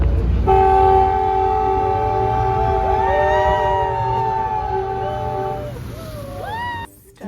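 Steady rumble of a moving train heard from inside a carriage, with a long sustained horn-like tone that fades out near the end.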